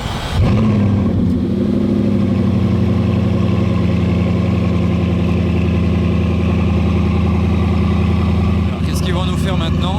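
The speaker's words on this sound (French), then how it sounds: "Elle fait beaucoup de bruit parce qu'elle est en cold start." A Bugatti Chiron Profilée idles loudly on a cold start, a deep, steady engine drone that holds close and constant throughout, with a brief burst of other noise near the end.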